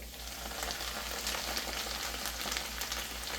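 Steady sizzle of walnut pasta sauce in a pan as parsley and red pepper flakes are mixed in, a continuous crackling frying hiss with no voices.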